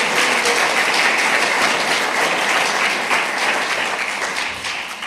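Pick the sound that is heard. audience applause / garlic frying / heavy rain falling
audience applause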